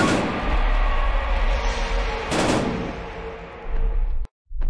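Rapid gunfire and explosive bursts in a VR shooter game, loud and sustained across the clip with a sharper blast partway through before a sudden brief cutoff near the end.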